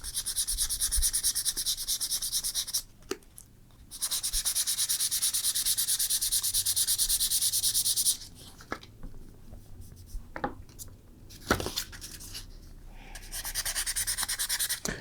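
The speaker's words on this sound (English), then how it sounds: "we're just going to take our dried surface and slowly sand that down so it's flat with the leather around it" Sandpaper scrubs back and forth over dried leather filler, leveling it flush with the surrounding leather; a close, steady rasping hiss runs in long sustained passes, broken by a few short pauses and light taps.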